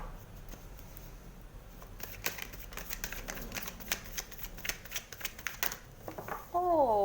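Tarot cards being drawn and handled during a Taurus love reading, a steady run of soft rapid flicks and shuffling taps, close and fairly quiet, ending in a brief tonal sound.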